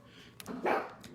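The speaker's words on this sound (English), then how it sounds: "that's my dog" A dog barks once at a distance, a short, faint bark within a quiet indoor room.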